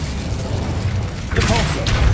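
In Hogwarts Legacy on PS5, an Incendio fire spell bursts out with a sudden rushing, crackling whoosh about halfway through, rising loudly over a steady background rumble.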